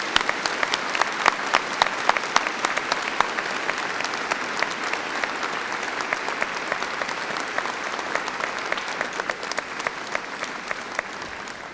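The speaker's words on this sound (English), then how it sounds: "let's get going with a big round of applause for the graduates of 2010 for this celebration" A large convocation audience applauds the 2010 graduates with sustained, dense clapping that holds steady and close for the whole stretch, with no speech over it.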